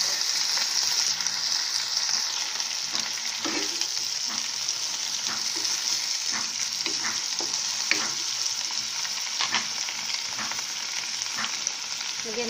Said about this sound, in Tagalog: Lagyan natin ng konting sabaw. Konting sabaw lang.